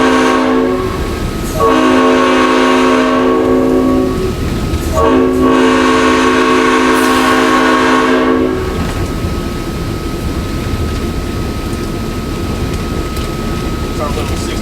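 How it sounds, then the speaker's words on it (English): GE 65-ton switcher locomotive, a Milwaukee Road unit, heard from inside the cab on a heritage railroad: a loud, steady diesel rumble, with two long blasts of the multi-tone horn in the first half and faint talk inside the cab. "It's our little 65-ton GE switcher."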